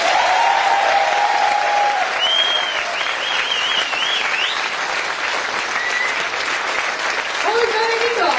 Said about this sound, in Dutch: geef hen even het applaus dat ze verdienen